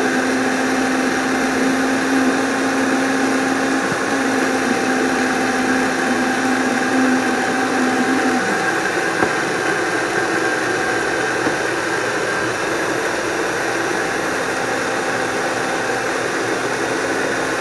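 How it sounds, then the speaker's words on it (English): A Vitamix blender running at high speed, blending a frozen ice-cream dessert, gives a loud steady whir close by, with the motor pitch shifting partway through as the mix changes, and no talking. "We're blending and chopping and grinding up all of our ingredients."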